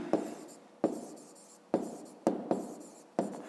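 Chalk or pen strokes writing numbers during a fifth-grade maths lesson: six sharp tapping strokes, each followed by a short scratching trail, fairly close and distinct with no talk.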